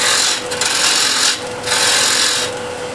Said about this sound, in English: with the spindle gouge I'll remove the foot here